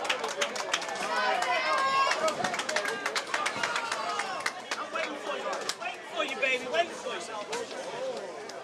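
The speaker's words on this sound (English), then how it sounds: "Crowd participation." Bowling alley crowd at a televised team bowling final, a dense wash of cheering and overlapping chatter with scattered claps, loud and steady throughout, with voices mixed in.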